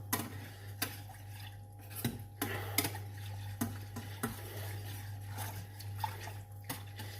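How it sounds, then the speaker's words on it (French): A spoon or whisk stirs milk into lasagne sauce in a pot, making repeated light clicks and taps against the pan with soft liquid swishing over a steady low hum, close and with no talk. "Et là, on mélange bien."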